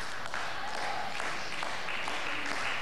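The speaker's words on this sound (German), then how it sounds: "Auch das rhythmische Klatschen der 700 oder 800 Fans in Jülich vermochte daran nichts zu ändern." Several hundred table tennis fans in a hall in Jülich clap in rhythm, a dense, steady wash of applause with no pauses and no clear talk over it.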